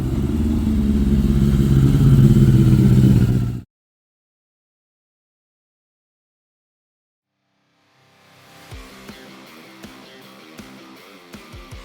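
A 30-year-old Suzuki RF900R sports tourer motorcycle engine runs with a loud, steady drone that cuts off abruptly. After several seconds of silence, a quieter, uneven mechanical clattering begins.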